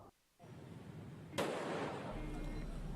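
A minibus burning in a bank parking lot on Jalan Jenderal Sudirman gives off a single sharp, loud blast that rings out over a steady roar of fire and crowd noise, after a brief quiet moment.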